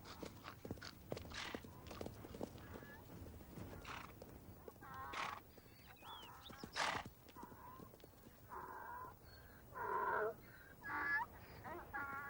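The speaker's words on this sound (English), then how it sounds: "The stallions round up harems of mares." Wild stallions and mares in a desert during mating season whinny and neigh in several loud calls, with clip-clop of hooves and rustling movement, quite near and without talk.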